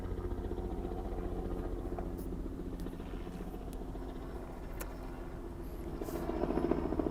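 The rhythmic thudding chop of a helicopter rotor continues steadily, swelling a little louder toward the end.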